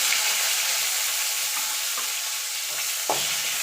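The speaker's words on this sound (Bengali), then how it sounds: "টমেটোটা একটুখানি নাড়াচাড়া করে নেব।" A tomato is stirred in a pan with a tempering of two dried red chillies and five-spice, frying with a steady sizzle and a few soft scraping stirs that are more pronounced near the end.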